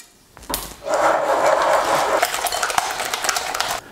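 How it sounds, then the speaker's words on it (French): A whisk stirring plain yogurt into caramel in a bowl, making a close, brisk rattling and scraping that starts after a short knock and continues steadily for about three seconds before stopping. "on va récupérer le fouet et nous allons mélanger"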